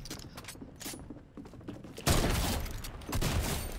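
Heavy sniper rifle fire in a video game, a loud blast at about the halfway point followed by a second burst, set against clattering mechanical game action with no talk.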